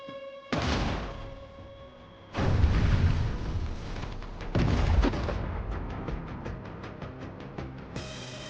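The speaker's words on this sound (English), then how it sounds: "Artillery and mortar fire on the invaders" Artillery and mortar fire in a war zone, heard as several heavy booms at irregular intervals, each followed by a long rumbling decay, with a rapid burst of sharper reports near the end.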